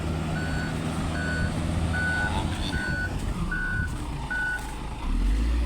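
A sand-hauling truck reversing at a sand pile in Porac, Pampanga in heavy rain, its backup alarm giving six steady evenly spaced beeps over a loud rumbling engine.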